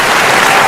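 Audience applause for a female host on a Macedonian talk show, a dense, loud burst of clapping filling the moment with no voices over it.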